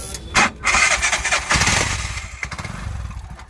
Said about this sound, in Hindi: गाड़ी स्टार्ट करो भाई, स्टार्ट करो।